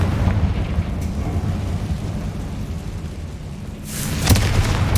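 A Confringo fire spell goes off in Hogwarts Legacy, a sharp crackling blast near the end after a long stretch of low ambient rumble, with a brief faint crack earlier.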